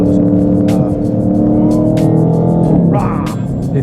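A Dodge Charger Daytona 392 V8 roars loudly and up close, its deep engine note holding through a downshift before the revs climb sharply near the end.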